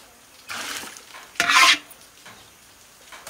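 Eggs are stir-fried in a pan in a village kitchen, heard as a few scraping spatula strokes, the loudest a sharp, hissing scrape near the middle, with no one speaking.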